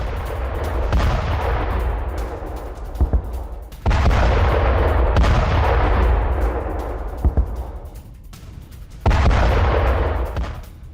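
Heavy explosions from an Iranian missile attack on Tel Aviv boom out one after another, three big deep blasts each rolling off into a long fading rumble, with sharper cracks in between.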